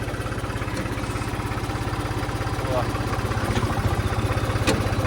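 A diesel tractor engine idles steadily nearby with a fast, even thumping chug, while a voice speaks briefly over it.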